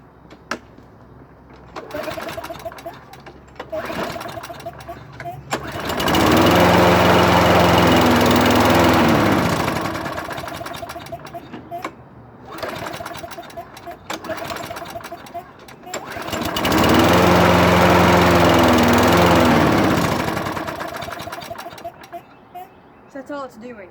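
An old lawn mower engine with a clogged carburetor runs loud and rough in two long surges that each fade and drop away, with quieter stretches between.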